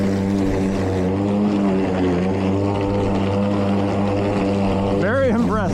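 A Milwaukee 2823-22HD battery-powered electric lawn mower cuts grass with a loud, steady, close motor hum and whine that holds throughout, its pitch wavering slightly near the end.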